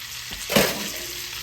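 Trout sautéing in a skillet for an old-school meunière, giving a steady, close sizzle and hiss of frying throughout, with a brief surge partway and no talking.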